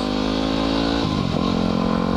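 A motorcycle riding on a road keeps up a steady, close engine drone. The pitch dips briefly partway through and then picks back up, with no talking.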